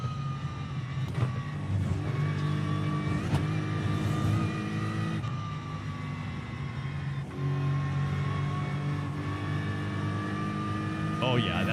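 Race car engine in the Project Motor Racing sim, GT3 or IMSA class, droning steadily at high revs near the redline across the whole stretch, with pitch sliding as it holds gear, a loud continuous whine up close.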